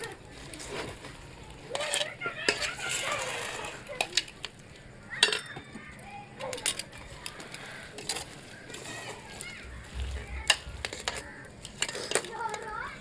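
Camphor is stirred into sugar for laddu with a spoon in a metal vessel, giving irregular clinks and scrapes, some sharp, spread through the clip. Someone talks throughout, and a voice is heard briefly.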